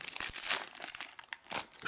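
A Topps Bundesliga Chrome 2013/14 sticker booster pack wrapper is torn open, giving close, crisp bursts of crinkling and tearing foil.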